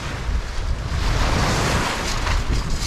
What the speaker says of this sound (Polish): Fale się zrobiły jak na morzu.